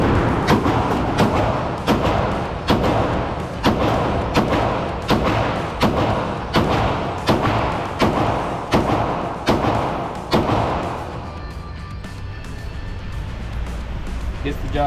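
Pistol shots, including from a Smith & Wesson, ring out at an outdoor gun range in a steady series of about fifteen loud, sharp cracks spaced roughly a second apart, then stop, leaving a quieter outdoor background.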